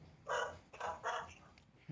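A dog barks three times in quick succession, fairly close, with a short pause before the last two.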